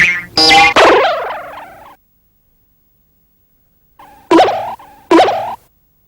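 A turkey gobbles loudly and up close, first in a rapid double burst, then after a silent pause in two more short, separated gobbles, with nothing else audible.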